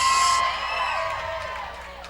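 Supporters of the Runaway Brides roller derby team roar and whoop from the crowd, a loud swell of cheering at the start that gradually fades over about two seconds.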